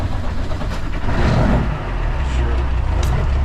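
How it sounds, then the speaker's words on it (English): A big freight truck's diesel engine turns over and catches, a loud, close, rough low rumble that swells and settles into a steady idle. "let's fire up the truck,"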